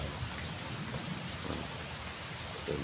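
Heavy rain falls steadily in southern Thailand, a dense, continuous patter of drops on surfaces that holds an even level from start to finish, with no speech.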